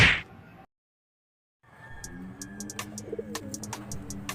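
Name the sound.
pigeons cooing in a loft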